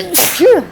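A single short sneeze close to the microphone, a quick burst followed by a brief voiced tail, with a quiet voice nearby.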